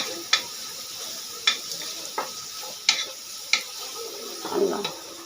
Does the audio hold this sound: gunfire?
no